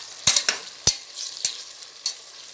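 Spoon stirring chopped tomatoes into fried onions in a pan for mushroom biryani: a handful of sharp scraping strokes at an uneven pace over a faint sizzle, close and clear, with no voices.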